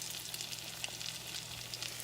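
Tuna patties frying in butter and oil, a close, steady crackling sizzle with dense fine spatter and a low hum beneath, continuous throughout with no talking.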